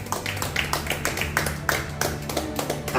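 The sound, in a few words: congregation clapping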